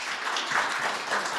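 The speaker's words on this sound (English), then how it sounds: "we give them a round of applause." Audience applause for the panelists at a writing workshop discussion in the American Writers Museum, a brief, steady wash of clapping at moderate level from a seated crowd.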